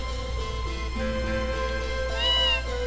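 Several cats meow in a Tales of Phantasia video game scene, short plaintive calls rising and falling over steady in-game background music, fairly faint with no speech.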